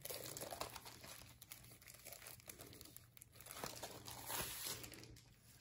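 Plastic packaging around a poster from a new comics haul crinkles and rustles continuously while being opened, faint but steady, growing a little busier toward the end.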